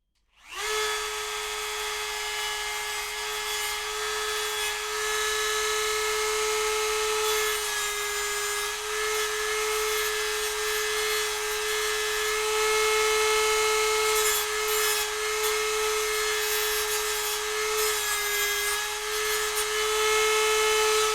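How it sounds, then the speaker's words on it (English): A power sander grinds down a small fret marker dot for a handmade guitar, likely purple heart or brass, giving a steady, close, continuous high-pitched whine with abrasive rubbing that holds for about twenty seconds. "I might just trim one of these on this sander here."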